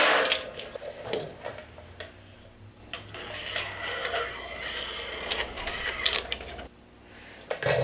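A ratchet or wrench working on bolts while frame sliders are fitted to an Aprilia Tuono V4 1100RR, with repeated close clicking and mechanical ticking over a faint background hum.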